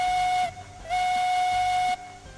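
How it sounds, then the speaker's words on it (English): A steam locomotive in RailRoads Online sounds its high-pitched whistle in two sustained blasts, the first short and the second longer, clear and loud with a brief pause between them. "we have a high-pitched whistle"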